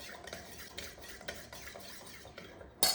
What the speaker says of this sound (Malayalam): നല്ല കലക്കി കൊടുക്കാം